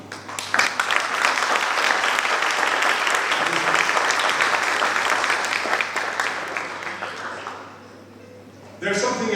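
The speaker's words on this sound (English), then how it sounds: "And now you can applaud them." Sustained audience applause at a CERN Media Lab talk, dense and steady for about seven seconds before fading, then a brief renewed burst at the end.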